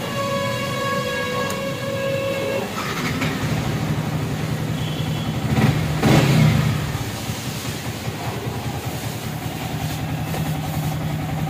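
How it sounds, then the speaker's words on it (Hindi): A Yamaha R15 V3 motorcycle engine idles steadily right after an oil change, a constant close mechanical hum with a brief swell midway and no talking. "सो अभी बाइक को स्टार्ट करना है 10 से 15 मिनट के लिए।"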